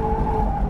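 A 2019 Mazda MX-5 Miata accelerating hard, its engine holding a strong steady tone with a rising edge over loud road and wind roar, close and continuous.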